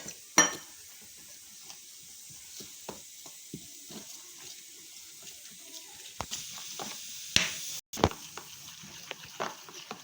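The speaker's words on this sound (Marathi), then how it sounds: "आता हे मी पाणी टाकून पीठ कालवून घेते" Flour batter with turmeric and salt stirred together with water for chicken vada pav, giving soft irregular scraping and sloshing with a few sharper knocks against the bowl, close by, with no talking.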